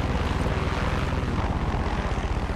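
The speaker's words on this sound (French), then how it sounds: "Il y a un hélico, frérot." A helicopter flies close by in the video game Far Cry 6, its rotor beating in a steady, dense pulse over a constant engine roar for the whole stretch, with no talking.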